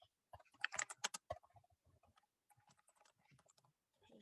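Typing on a computer keyboard, quiet close clicks in quick irregular bursts with brief pauses, heard alone in a still room.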